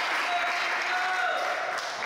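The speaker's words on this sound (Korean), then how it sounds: "청소년들에게서 환호성이 터져 나왔는데요" Teenagers in a school band cheer after being given guitars, a dense crowd roar of voices and clapping that stays loud and steady for about two seconds before cutting off.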